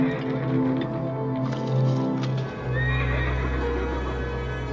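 A horse neighs and whinnies in a long, wavering call, close and fairly loud, with steady background noise and a shift in tone partway through.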